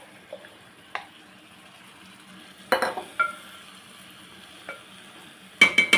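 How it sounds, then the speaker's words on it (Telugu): Cooked rice is spooned over fried chicken in a pot for dum biryani, giving soft, sparse scrapes and clinks of a utensil against the pot with quiet pauses between them. "రైస్ ఇలా అంతా వేయాలండి, చికెన్ మొత్తం కవర్ అయ్యేలాగా."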